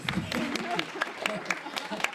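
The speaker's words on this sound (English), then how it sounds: "give yourselves a round of applause" An audience at a women-in-business awards event claps in a steady run of distinct, fairly faint claps, with speech carrying on beneath them.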